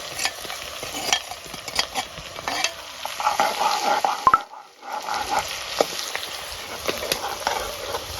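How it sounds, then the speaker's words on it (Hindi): Garlic, ginger and red chili paste sizzling and frying in hot oil while being stirred, close and steady, with scraping and a brief quieter pause midway. "लहसुन, अदरक और लाल मिर्च का जो हमने पेस्ट बनाया वो भी हम इसी में फ्राई कर लेंगे इसी तेल में"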